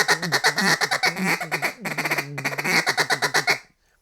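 A duck call blown to make feed chatter imitating many ducks at once, a loud, close, rapid run of nasal quacking pulses that shifts rhythm midway and cuts off abruptly near the end.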